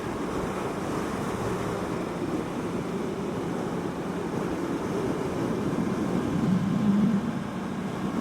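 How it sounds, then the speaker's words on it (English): Steady wind blows and buffets the microphone on Reyes Peak, mixed with a constant surf-like rush that swells slightly near the end. "Still a little windy."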